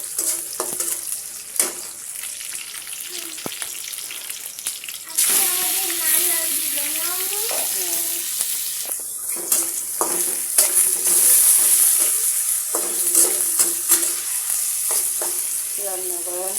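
Mixed vegetables fry in a pan for a home-cooked meal, a steady sizzle running throughout with repeated scraping stir strokes and clinks; a voice is heard briefly in the middle.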